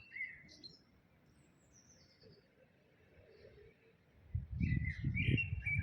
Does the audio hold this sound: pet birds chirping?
yes